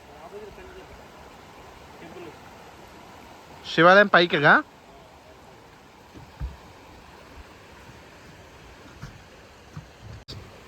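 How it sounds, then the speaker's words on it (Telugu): A waterfall pours steadily during a boat trip in India, giving a constant broadband rush throughout with a brief burst of speech over it. "ఇక్కడ కనిపిస్తుంది వాటర్ ఫాల్స్ ఉంది కదా"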